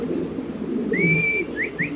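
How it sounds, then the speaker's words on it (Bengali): A Spanish pigeon calls at a pigeon farm, giving one drawn-out whistled note followed by two short rising chirps over a low background murmur. "জাস্ট খালি কবুতরের ডাকটা দেখেন ভাই"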